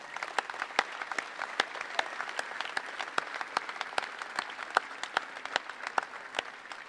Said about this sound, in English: So let's give a round of applause for all the doctors that work at Mass General.